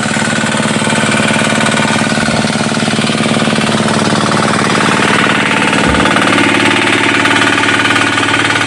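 An irrigation water pump engine runs on a farm by a lanzones orchard, a loud, steady, rattling chug that continues without pause.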